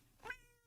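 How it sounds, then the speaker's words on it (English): A single short meow from an orange cat, fairly faint and clear, rising and falling within a fraction of a second against a quiet background. "sorry, I was handed an orange cat."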